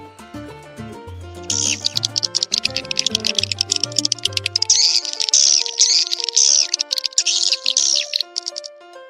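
A dense, continuous chorus of high chirping swiftlet calls with rapid clicking twitters, a recording played back inside a building over a low tonal drone, steady and fairly loud throughout.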